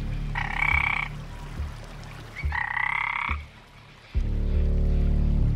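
A frog croaks loudly in two clear, sustained bursts against a low background rumble, with no voices present.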